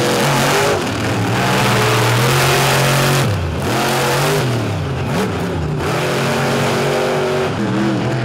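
Monster truck engines roar on a dirt track at a Charlotte show, with a loud, continuous, throaty revving that dips and surges as the trucks accelerate, close and dominating.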